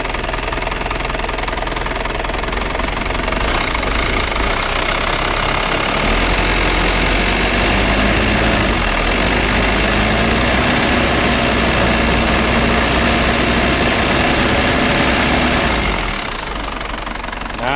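Isuzu D-Max Dragon Eye pickup engine running steadily near the microphone, with a clattering, knocking idle that rises into a sustained rev in the middle before settling back down.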